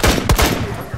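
Gunfire in the tactical shooter game Rainbow Six Siege: a tight burst of loud, close shots with sharp broadband cracks in the first third of a second, then a decaying rumble and trailing echo.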